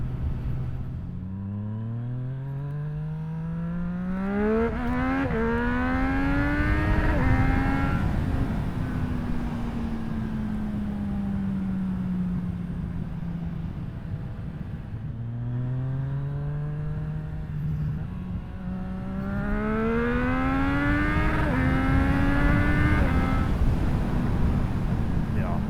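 A Triumph Street Triple motorcycle runs at speed, its engine repeatedly winding up through the revs, dropping on each shift and climbing again, loud and steady with heavy wind rush.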